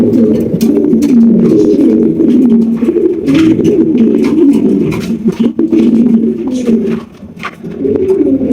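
Pigeons of large king and blue-bar varieties cooing continuously in a loud, close, overlapping chorus, with occasional brief voices of people talking nearby.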